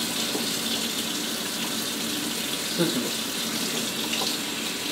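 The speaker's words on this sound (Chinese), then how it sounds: "看，热水器里面出热水了" Hot water runs steadily from a tap just after a water heater has been repaired, a continuous gushing splash into a sink throughout, with a brief spoken word partway through.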